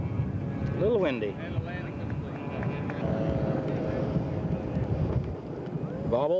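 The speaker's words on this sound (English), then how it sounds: "A little windy." Gusty wind buffets the microphone at an outdoor scale model aircraft show in California, a steady low rumble throughout, with a model Tiger Moth's four-stroke engine droning nearby and an announcer's voice underneath.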